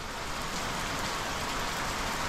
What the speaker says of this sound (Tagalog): Hindi ko rin kasi na-check na ganito pala kalakas ang ulan today.